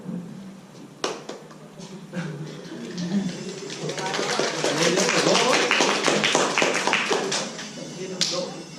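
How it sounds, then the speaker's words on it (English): Hand clapping during a group debate, scattered single claps at first building into a sustained round of applause from a small audience, with voices underneath. "Why do you clap your hand?"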